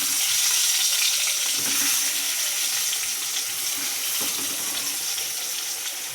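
Eggplant pieces frying in a home kitchen pan, a steady, close broadband sizzle that stays loud and even throughout with a few faint clinks, no one talking.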